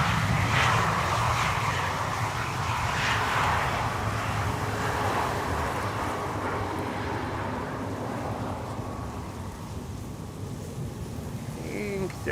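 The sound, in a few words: aircraft arriving at Schiphol Polderbaan runway 18R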